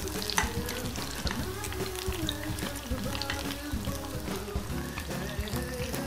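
Rabanada, Brazilian French toast, fries in a hot pan as slices of bread coated in cinnamon sugar turn golden, giving a steady close crackling sizzle with busy pops and spatters throughout and no voices.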